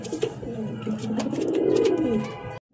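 A pair of black Lahori pigeons coo together up close, a soft throaty rolling call swelling and fading over a couple of seconds, then cutting off.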